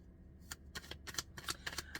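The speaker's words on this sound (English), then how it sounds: "I'm just going to shuffle some cards" Playing cards being shuffled, close by, in a run of quick papery riffles and snaps that come in bursts over two seconds, with no talking.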